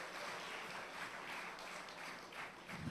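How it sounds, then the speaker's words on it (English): Faint, distant applause from an audience, a steady wash of clapping heard at low level throughout. "another big round of applause for the National Theatre Arts Company of Trinidad"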